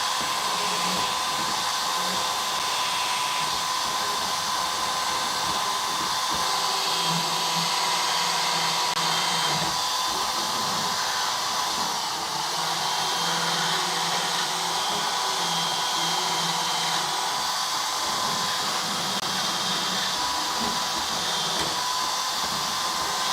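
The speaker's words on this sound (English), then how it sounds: "this tungsten carbide burr is excellent. I love this damn thing. Makes it so easy." Tungsten carbide burr grinding rust off the seam where two panels meet on a Dodge Crew Cab truck: a steady, high-pitched rotary whine running nonstop and close for over twenty seconds, with slight shifts in load.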